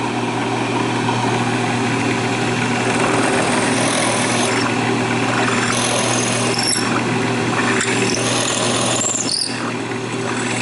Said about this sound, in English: I'm going to drill another hole, and I'll show you that pumping action that I'm talking about.